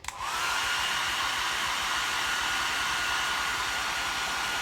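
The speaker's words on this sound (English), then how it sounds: "we're about a point where I can grab the hair dryer and just help that" A hair dryer blows steadily to dry a freshly painted diorama. It starts abruptly and then holds a loud, even, rushing whoosh close to the microphone for several seconds.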